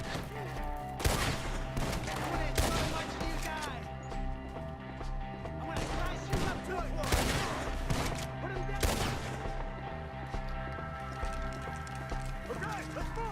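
Gunfire rattles through a wooded Red Dead Redemption 2 battle, with repeated sharp shots and volleys coming in bursts over galloping hooves, a whinnying horse and a busy mix of game sound, while people talk in between.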